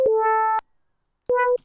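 Two synthesized FM tones with a shaped volume envelope, each rich in stacked harmonics; the first holds steadily for about half a second, then after a short silence a second, shorter tone swells and fades.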